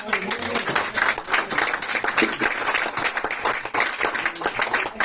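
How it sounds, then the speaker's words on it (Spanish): An audience at a lecture applauds with brisk, dense, fairly close clapping that stays even throughout. "Hoy un aplauso."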